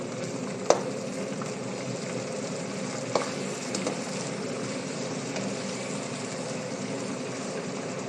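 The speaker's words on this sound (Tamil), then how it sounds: "கருவேப்பிலை கொஞ்சம் வறுத்து பொறிச்சு எடுத்துக்கோங்க" Steady oil sizzling and crackling of paneer 65 and curry leaves frying in a pan, with a few sharp pops and light clinks near the start.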